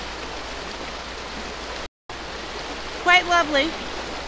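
Running water after heavy rain, a steady broadband rush filling the whole scene outdoors, with a brief dropout midway and a voice speaking over the flow near the end.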